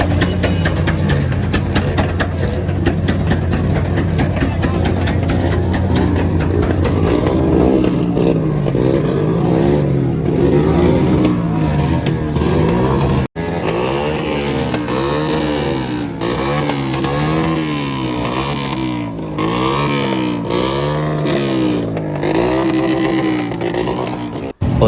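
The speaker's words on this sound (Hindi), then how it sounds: "यहाँ पर शहर भर की मॉडिफाई और मशहूर ड्रिफ्टिंग कार्स भी मौजूद हैं।" Modified drifting cars and motorbikes rev hard and over and over at a crowded street gathering on 14 August, a loud, constant engine roar with rhythmic pulsing throttle blips.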